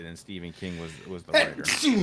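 A sneeze bursts out near the end of a podcast conversation, sharp and close, following a stretch of ordinary talk from another person.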